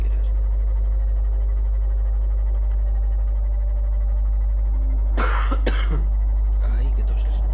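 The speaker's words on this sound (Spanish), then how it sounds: "Ay, qué toses." Two sharp coughs close to the microphone, heard over a steady low hum during a Subnautica gaming session.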